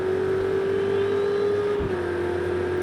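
A race car engine in Project Cars 2 at Red Bull Ring holds a loud, steady high-pitched drone that climbs gradually, then dips briefly as it shifts and carries on, close and alone with no talk.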